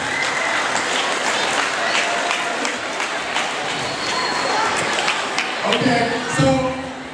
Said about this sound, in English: Give them a round of applause for expressing their awesomeness.